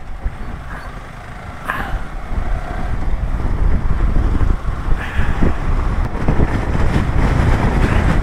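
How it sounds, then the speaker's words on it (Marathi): Strong wind on a mountain road roars and buffets steadily and loudly, with gusts swelling toward the end and some vehicle rumble mixed in. "कसली हवा आहे हवा."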